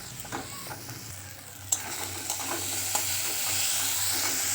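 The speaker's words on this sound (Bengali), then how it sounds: "এবার সমস্ত কিছু খুব ভালো করে ভেজে নেব" Ground spice paste with tomatoes fries in a pan, a steady soft sizzle broken by scraping stirs and a few sharp clinks of the spatula, close and alone.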